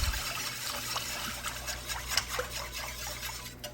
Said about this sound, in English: We'll switch over to the whisk to make sure everything gets incorporated fully before we start simmering and reducing this down